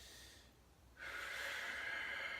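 A deep breath in through the nose during a hip and hamstring stretching exercise, a quiet close inhale that starts abruptly after a brief pause and holds steady for about a second and a half.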